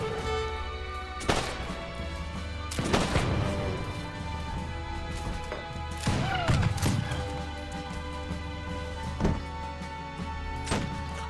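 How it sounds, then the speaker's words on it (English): Grenadier units lobbing grenades in the strategy game Age of Empires 3 (Wars of Liberty), heard as several separate thumping, crashing blasts spaced a few seconds apart over a steady game soundscape, with no talk. "That was a good grenade toss."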